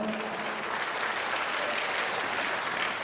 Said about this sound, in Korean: 저음 주에서 고생 없는 박수 한번 쳐주세요.